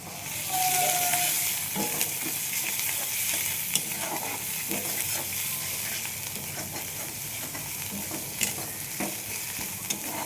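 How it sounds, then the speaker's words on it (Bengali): Fish in oil in a pan fries with a continuous dense sizzle and crackle, joined by intermittent scraping stirs and small clicks, close and steady. "আমি আর একটু তেল দিয়ে দিচ্ছি, যেহেতু এটা ভালোভাবে ভাজা হবে"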